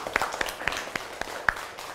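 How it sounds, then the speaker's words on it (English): A group of schoolchildren in a classroom clapping for themselves, a sparse, uneven scatter of individual claps at moderate distance. "Clap for yourself."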